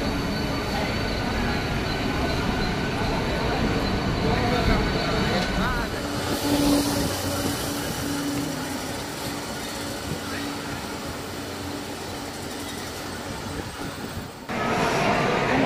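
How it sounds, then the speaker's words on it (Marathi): Trains at Mumbai's Chhatrapati Shivaji Maharaj Terminus (CST) give a continuous loud rumble of rolling railcars with clattering wheels and occasional squeals, and a busy crowd of voices mixes in. "हे बघा, हे आहे CST station, Chhatrapati Shivaji Maharaj terminus."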